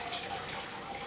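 Hot water poured into a bowl of pounded yam mix in a home kitchen, a steady close splashing rush of liquid lasting about a second with no talk.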